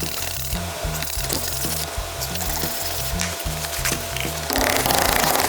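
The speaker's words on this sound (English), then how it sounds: "I'm gonna go ahead and scrub this more" Someone scrubs muddy skateboard grip tape in a fast, rhythmic back-and-forth scraping with evenly spaced strokes, loud and close, ending in a burst of harsher rubbing.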